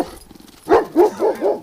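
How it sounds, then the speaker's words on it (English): A dog barks out in the bush during a winter duck hunt, loud and close, giving four or five deep, evenly spaced barks in quick succession after a brief quieter stretch. "He just got back in the bush barking his head off."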